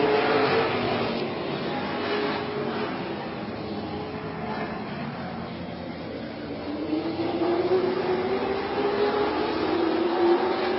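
Stock cars race on track with a loud, close, continuous roar of engines, the pitch swelling and rising toward the end.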